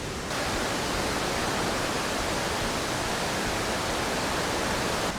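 Kapas Biru waterfall in Lumajang, a dense, steady roar of falling water filling the whole stretch without pause, loud and close with no voices over it.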